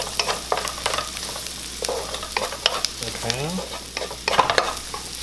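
Mushrooms sizzle in a hot pan while being stirred, with scraping and clattering strokes over a steady fry; a voice speaks a single brief word.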